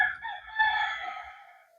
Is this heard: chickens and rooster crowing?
yes